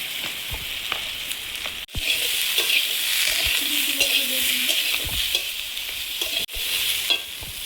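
Ridge gourd frying in a pan with potatoes and a pinch of turmeric gives a steady, close sizzle, broken by scraping stirs and occasional clinks, with no talking.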